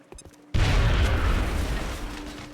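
A grenade goes off in the strategy game XCOM: Enemy Unknown. After a few faint clicks comes a sudden loud, deep blast whose rumbling roar slowly fades over two seconds, with no voices.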